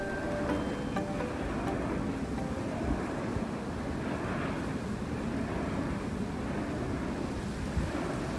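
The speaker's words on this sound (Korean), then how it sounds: "지금 바람 소리가 들리는데요." Steady, blustery coastal wind on Jeju Island, South Korea, roars continuously near wind turbines, buffeting the microphone, with a faint wash of surf beneath it and no voices.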